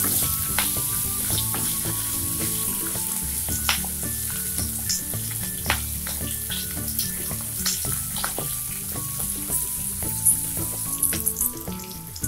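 Green chillies sizzle and fry steadily in hot oil for a chilli masala fry, with a dense crackling hiss, occasional pops and stirring scrapes throughout, close and continuous with no talk.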